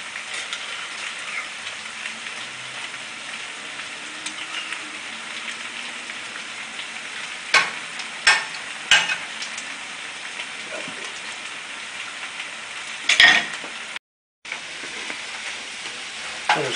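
Beef and tomato paste being stirred together in a cooking pot, with a steady crackling sizzle throughout and a few sharper scrapes of the spoon against the pot, no talking.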